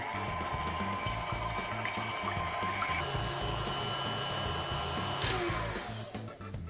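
An electric mixer whisks meringue mixture at high speed for rainbow meringue kisses, a steady, loud whirring drone with a rattling low hum that runs unbroken throughout, no voices over it.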